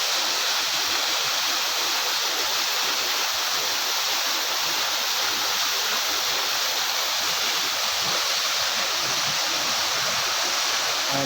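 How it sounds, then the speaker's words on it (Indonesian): A waterfall roars in a loud, steady broadband rush that never lets up, with no voices. "Kita mau coba dulu teman-teman ya untuk ke air terjunnya"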